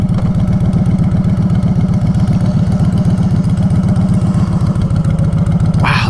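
A 2022 Honda Fury cruiser motorcycle idles loud and close, its engine pulsing in a steady, rapid rumbling beat, with a brief rise in pitch near the end.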